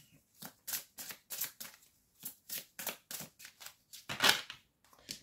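Belline oracle cards are shuffled by hand in repeated quick riffling bursts, close and crisp, with short pauses between rustles and no speech.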